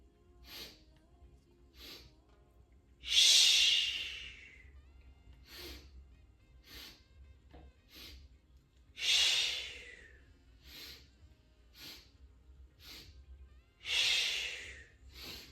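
Breathing exercise with slow inhales through the nose and three strong, breathy exhales through the mouth, evenly spaced and close up, with quieter short sniffs and puffs between them and no talking.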